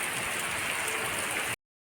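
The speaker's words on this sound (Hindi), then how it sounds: "हमारे यहाँ बारिश आ गई बहुत तेज" Heavy rain pours down in a steady, dense hiss, loud and continuous with no voices, ending abruptly after about a second and a half.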